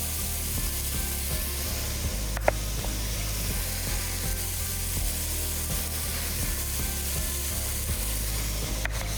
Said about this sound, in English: you're just gonna cook this on the stove until those leeks start to soften